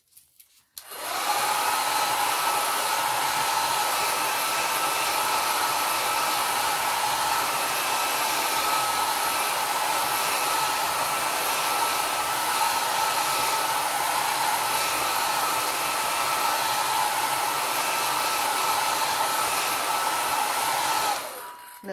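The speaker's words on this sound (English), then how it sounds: "take a minute to dry that with my blow dryer" A hair dryer switches on and blows with a constant loud whoosh for about twenty seconds, drying alcohol ink, then cuts off.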